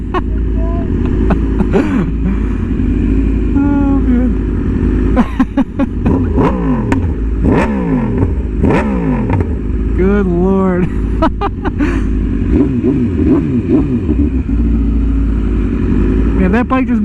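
A Yamaha R1M sport motorcycle fitted with an aftermarket exhaust, loud and close, revving repeatedly in sharp rising bursts over a steady engine drone, with people talking throughout.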